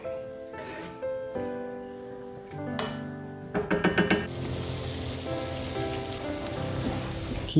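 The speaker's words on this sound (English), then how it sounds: "Add some butter and spread the onions out so that they're all touching the cast iron." Onions frying in butter in a cast iron pan, a steady close sizzle that swells and crackles louder after a few seconds, with faint tonal music underneath.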